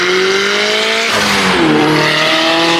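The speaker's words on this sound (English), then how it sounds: "The wastegate in my car is externally dumped, meaning it doesn't recirculate back into the exhaust." A turbocharged Subaru BRZ with an externally dumped wastegate runs loud and close, engine note holding steady then dropping as the turbo vents with a hissy rush.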